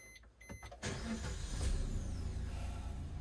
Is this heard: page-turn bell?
no